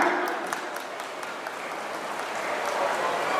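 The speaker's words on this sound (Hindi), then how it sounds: "एक बार जोरदार तालियां।" Applause from a large audience at a grand retirement felicitation ceremony with about 1600 guests, a steady dense clapping wash that holds evenly for the whole stretch with faint voices mixed in.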